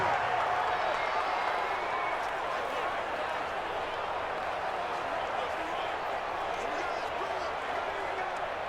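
Steady stadium crowd roar inside the Dome during a Madden 20 simulation of a Chiefs at Saints game, a continuous dense wash of noise at constant loudness with no distinct peaks, heard alone.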